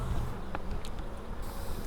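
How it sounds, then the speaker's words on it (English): A drone honeybee among worker bees hums in a steady low buzz close by, with faint movement noises over it. "This is a drone bee,"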